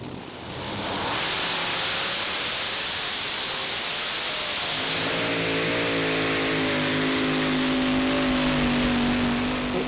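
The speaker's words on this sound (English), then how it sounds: "Easing forward on the throttle." A 4.5-ton class pulling tractor at a Eurocup tractor pulling event in Herning, Denmark, roars with engine noise that climbs in pitch as the throttle eases forward, loud and steady throughout with no speech.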